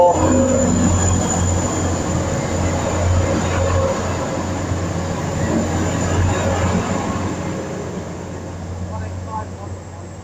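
Trans-Pennine Express train at Durham station, a broad steady rumble and hiss of the train close by with a high whine running throughout, easing slightly toward the end, with a voice speaking over it.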